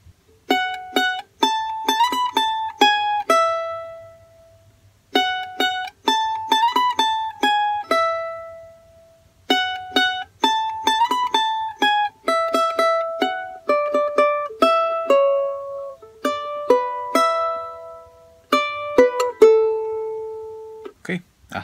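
A charango plays a plucked melodic phrase from Alma Llanera, bright, close notes in repeated runs with brief pauses between phrases and no voice over it.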